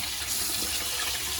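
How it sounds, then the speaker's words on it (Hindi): Vegetables for Punjabi gobhi, gajar and shalgam pickle are washed under running tap water, giving a steady, close, uniform hiss of flowing water with no pauses or voices. "रनिंग वाटर में इसको वॉश कीजिए।"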